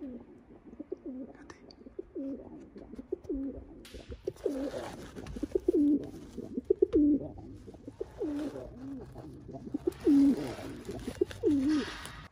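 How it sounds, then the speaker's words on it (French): Pigeons cooing at a round bull's-eye window under renovation, with repeated soft, rolling coos in a loose rhythm, fairly close, and a few faint knocks and rustles between calls. "Il y a les pigeons, ils sont toujours là."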